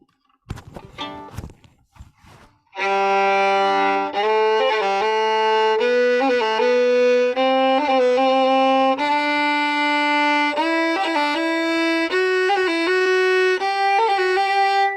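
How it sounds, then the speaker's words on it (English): After a few soft knocks, a fiddle plays a slow major scale of sustained notes, each decorated with quick ornamental rolls, bright and near. "The way that I do it usually is to do a roll on a major scale on every note."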